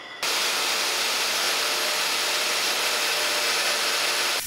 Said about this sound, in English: you can turn the machine on and start cutting from there